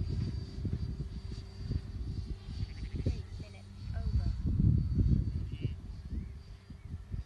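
An E-flite Havoc RC jet plane flies at half throttle at a model flying club, its engine a faint, steady whir that swells and fades as it passes, with people talking over it throughout.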